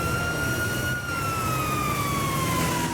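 Ambulance siren wails steadily throughout, a continuous loud tone with slowly falling pitch over constant traffic rumble, no talk.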